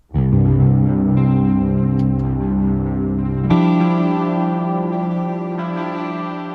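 Sustained guitar tones drenched in chorus, distortion and echo, low notes ringing out, then a sudden shift to a brighter, buzzing chord held to the end.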